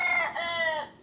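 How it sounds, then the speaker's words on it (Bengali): A rooster crows once in a village morning, a single drawn-out, slightly hoarse call heard fairly close and alone, fading at the end. "মোরগের ডাকে ঘুম ভাঙে, আসলে অনেক সুন্দর লাগে"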